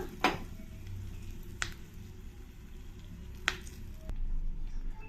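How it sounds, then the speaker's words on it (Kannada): Mustard seeds spluttering in hot oil with asafoetida and curry leaves, tempering for a raw mango chutney: a low steady sizzle broken by a few sharp pops, close by, with no talking. "ಸಾಸಿವೆ ಸಿಡಿಯೋದಕ್ಕೆ ಶುರು ಆಗಿದೆ"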